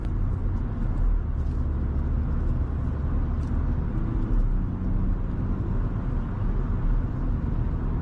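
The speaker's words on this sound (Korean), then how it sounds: "고속에서도 잘 달리긴 하지만 약간의 풍절음 같은 소리가 들리기 시작해요" Inside a 2024 Hyundai i10 at highway speed, steady low road rumble fills the cabin with a mild wind rush over it, continuous and even throughout.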